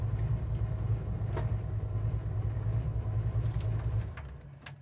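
A 1964 Chevrolet Impala SS with a 4-speed sits idling at about 500-600 RPM, a steady low rumble close by with faint outdoor background and no talk.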